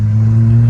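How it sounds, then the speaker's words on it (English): A Datsun 240Z engine on a test drive on a tight street in Japan, a steady low, loud engine hum inside the car over a brief moment. "we're just gonna take a quick test drive just to hear the engine"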